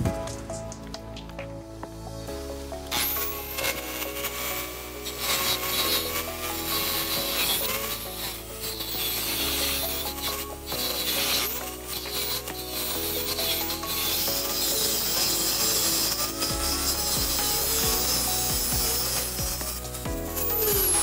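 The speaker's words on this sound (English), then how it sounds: "We'll use a Dremel saw to do that." A Dremel saw slitting the metal armor of Southwire MCHL cable, a continuous close grinding whine with a rasping, rubbing texture and shifting pitch as the cut proceeds.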